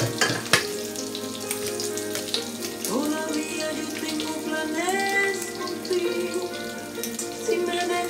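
Root vegetables (viandas) frying in a pan with a steady, fairly loud close sizzle and crackle throughout, plus occasional clinks and a brief sharp knock near the start.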